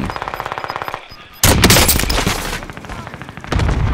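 Gunfire in Call of Duty: Warzone: a rapid, rhythmic string of automatic shots, a brief lull, then a much louder, heavier volley of close gunfire that keeps going to the end.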